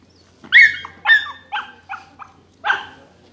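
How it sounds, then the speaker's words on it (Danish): A dog barks five or six times in a loud, close, irregular series, the barks sharp and somewhat whiny as it strains to reach other dogs on a walk. "Han gør, fordi at han gerne vil hen og være sammen med dem."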